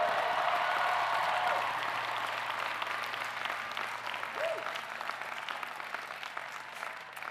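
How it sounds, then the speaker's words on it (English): Sustained audience applause fills a university commencement ceremony hall in honor of first-generation graduates, a dense even clapping that starts strong and slowly tapers over several seconds. "get a round of applause for our first generation graduates?"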